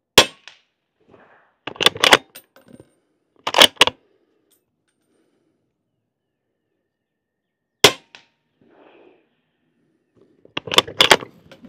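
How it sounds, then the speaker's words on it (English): A rifle fires at a paper target outdoors, giving several sharp, loud cracks spaced seconds apart with quieter clinks and handling noises between shots. "I'm going to be shooting at a sticky down there that's already got shots on it"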